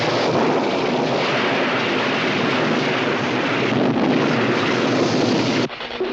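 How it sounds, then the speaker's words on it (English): Violent summer storm from a 1970s horror film soundtrack: a dense, steady roar of driving wind and rain with low rumbling that holds loud and unbroken for most of the stretch, then drops abruptly near the end. "It was a violent summer storm."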